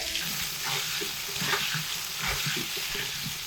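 Potato pieces fry in hot oil with a steady close sizzle, broken by scraping and clinking as a spatula stirs them in the pan.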